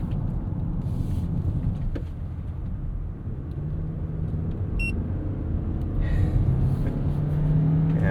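Interior of a 2025 Toyota Crown Signia taking a fast corner, with a steady low road and engine rumble, tire noise rising slightly through the turn and a brief electronic beep midway.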